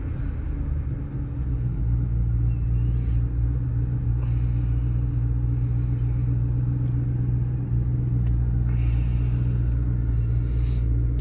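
A GT convertible sports car's engine rumbles steadily and loudly up close, a deep continuous idle with no voices over it.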